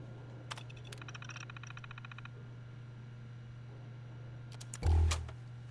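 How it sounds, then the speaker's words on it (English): Fallout 76 alarm buzzer in an Enclave facility, a loud harsh burst near the end after a stretch of quiet clicks and a steady low hum. "This is so gonna cause an alarm."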